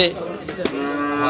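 A cow moos loudly and close by at a cattle and goat market, one long drawn-out low call with faint background chatter of the busy market.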